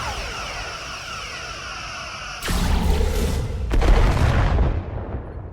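Starship weapons firing in the Star Trek Resurgence video game: a sudden loud blast after a quiet hum, followed by a second burst and rumbling boom, heard alone without talk.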